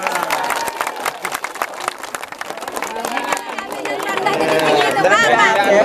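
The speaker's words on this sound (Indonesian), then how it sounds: "Ya, tepuk tangan dulu." An audience at a farmers' meeting about a fertilizer trial on rice paddies breaks into scattered clapping that builds into fuller applause, with chatter and a speaker's voice running over it.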